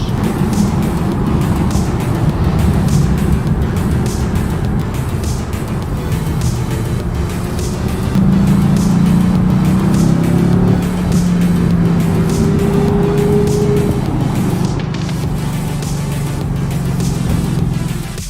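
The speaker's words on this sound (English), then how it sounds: "Driving through beautiful town, St. George." A car drives through the town of St. George, its engine and road noise humming steadily and loudly from inside the cabin, with the pitch rising and falling a little as it changes speed.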